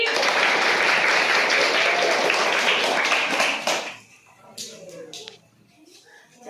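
A class of listeners claps together in a loud, dense burst that cuts off after about four seconds, followed by quieter room sounds and a voice speaking.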